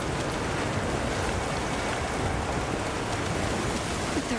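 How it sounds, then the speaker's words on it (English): Heavy downpour in the video game Monster Hunter Wilds, a dense, steady hiss of rain that stays loud and even throughout with no pauses. "The rain's really coming down"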